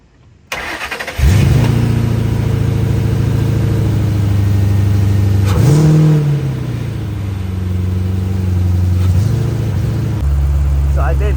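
A car engine cranks and starts after a jump start from a Hulkman Alpha Pro jump box, then revs up once, settles to a steady idle and revs briefly again, heard up close.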